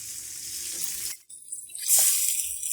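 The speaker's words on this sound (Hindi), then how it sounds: "अब हम इसमें पानी ऐड करेंगे।" Water poured into a pan of mutton karahi frying in oil, a loud hissing sizzle that drops away, then a splashing pour with a fresh burst of sizzling.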